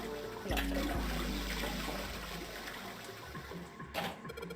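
A toilet flushes in the video game Nine Hours, Nine Persons, Nine Doors, a loud rushing gush of water that gradually settles into a draining swirl and trickle.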